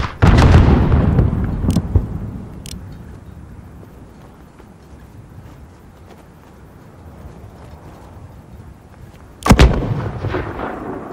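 Mortar blasts and gunfire boom in the Call of Duty Modern Warfare video game: a heavy explosion opens, followed by a couple of sharp shots, a long rumbling lull, then another loud blast near the end.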